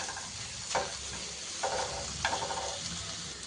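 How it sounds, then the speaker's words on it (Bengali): Minced shrimp fries with onion and garlic in a pan, a steady close sizzle broken by three scraping stirs of a spatula at roughly even intervals, with no voices. "এবার আমি চিংড়ি মাছটা দিয়ে দিচ্ছি, একদম কিমা করে নিয়েছি ছোট ছোট করে"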